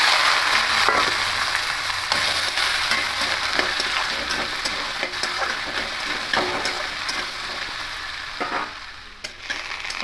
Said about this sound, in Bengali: তেলে এবার আলুগুলো দিয়ে দেবো। দিয়ে হালকা একটু ভেজে নেব।